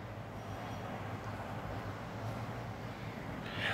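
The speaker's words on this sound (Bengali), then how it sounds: "ট্রেন আসছে" A train approaching in a 3D driving video game, a continuous rumbling rail roar that holds steady and swells slightly at the end.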